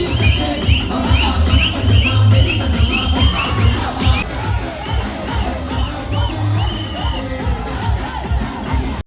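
A packed movie theater audience on a film's first-day screening shouts, whoops and cheers over loud booming music, a continuous rowdy roar with high yells scattered throughout.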